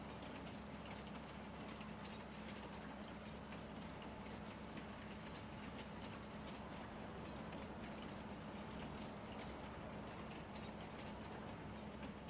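A train ride in the Farming Simulator 19 video game gives a faint, steady rumbling hum that runs unbroken from start to end with no talking.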